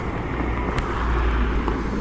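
A Zero electric motorcycle on a test ride, heard as a steady rush of wind and road noise with a faint motor whine, continuous and close, with no talking.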